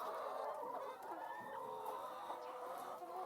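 Chickens in a large flock of about a thousand birds cluck and murmur together on a farm, a steady busy chorus of overlapping calls at moderate distance, with no talk.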